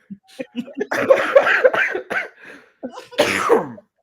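A person coughs repeatedly in harsh, uneven bursts, close up, with short pauses between fits.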